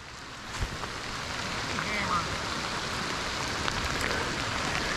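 Heavy rain patters down outdoors while bass fishing, a dense wash of drops with faint water sounds underneath.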